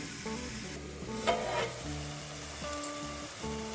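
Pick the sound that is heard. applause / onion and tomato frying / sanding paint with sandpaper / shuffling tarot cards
onion and tomato frying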